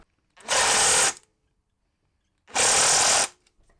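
Power drill enlarging a bolt hole in the removable baffle of a stock KTM Duke motorcycle exhaust, in two loud, steady bursts of about a second each, separated by a short pause of silence.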